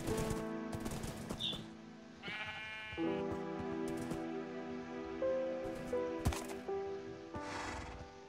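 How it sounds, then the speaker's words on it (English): Sheep in Minecraft bleat repeatedly in tonal, wavering calls that overlap one another, moderately loud and near, over a busy game-world background with occasional sharp bursts. "A lot of fucking sheep here."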